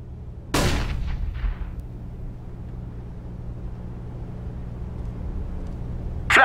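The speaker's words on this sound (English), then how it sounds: "Throwing a flashbang." A flashbang grenade goes off in Counter-Strike: one loud sharp blast with a brief trailing rumble, followed by quiet ambient hum and another burst at the very end.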